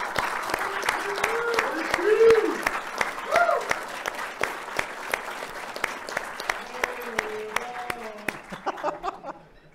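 Audience applause at a military command's quarterly awards presentation for a civilian award winner, sustained clapping that swells and then tapers off, with a voice speaking over it.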